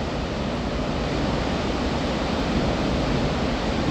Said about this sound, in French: Et voilà, les chutes de Montmorency